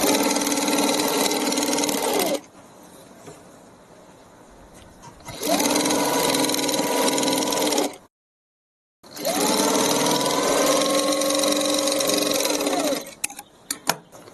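A sewing machine runs loud and close, stitching a kids' lehenga in three long bursts with short pauses and a brief silence between them.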